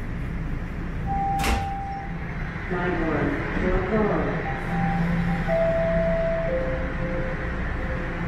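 Doors slide open on a Toronto Line 4 Sheppard subway train stopped at York Mills station: a mechanical whoosh and clunk, then chime tones and steady carriage rumble underneath.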